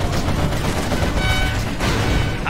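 Rapid quad cannon fire from C&C Generals Zero Hour, a dense, loud, continuous stream of stitching shots with no break across the whole stretch.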